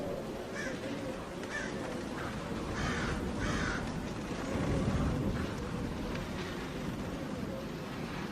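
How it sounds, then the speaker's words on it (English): Several crows caw repeatedly at a distance, harsh calls spaced a second or so apart over a constant low rumble. "Birds."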